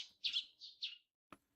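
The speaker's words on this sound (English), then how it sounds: "The sounds of the birds chirping outside the window suddenly caught my attention." Birds chirping outside a window in a video game, a few clear high chirps in quick succession, then a brief pause and one short sharp click, faint and isolated with no talking.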